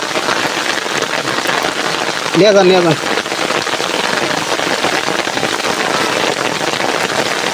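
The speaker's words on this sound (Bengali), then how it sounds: "আর বৃষ্টি।" Steady, dense rain pours down in a constant hiss with a brief voice rising over it early on.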